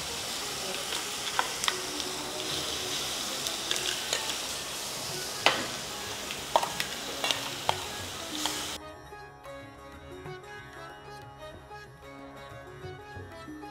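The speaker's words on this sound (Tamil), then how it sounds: "அரைச்சி வச்ச சட்னி போட்டு தாளிக்கிறோம்" Ground Chettinad kara chutney is tempered in a hot pan, giving a close sizzling and bubbling hiss with scattered sharp pops and crackles that drop away partway through, leaving a quieter simmering sound.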